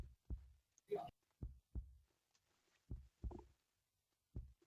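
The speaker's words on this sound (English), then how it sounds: "I can feel my heart pounding against my chest." A heartbeat sound effect in an audio drama, deep paired thumps repeating in a slow, steady rhythm, close and fairly loud, with a short breathy vocal sound near the start.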